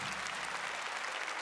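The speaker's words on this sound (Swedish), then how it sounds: "Applåd." Audience at a live band concert in Botniahallen applauding, a dense, steady wash of clapping for a short moment.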